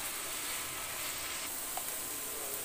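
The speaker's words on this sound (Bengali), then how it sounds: "পেঁয়াজ আর গাজর একসঙ্গে নেড়ে চেড়ে সিদ্ধ করে নিব।" Chopped carrots and onions sizzle and hiss steadily in a hot pan while being stirred for fried rice, a continuous close frying noise with no talk.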